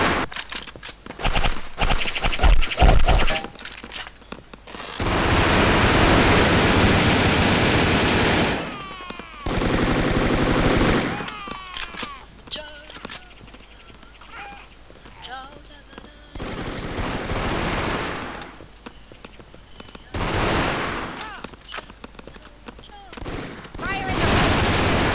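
Sustained bursts of automatic gunfire in the video game Brick Force, long rattling volleys broken by short pauses, with voices talking in between.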